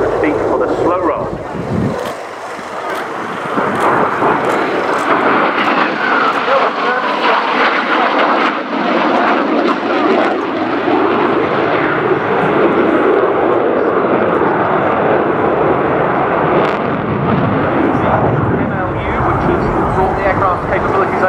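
An F-16A fighter jet on a demonstration pass at about 450 knots and 500 feet for a slow roll, its loud, steady engine roar and rush filling the air throughout, with an announcer speaking over it.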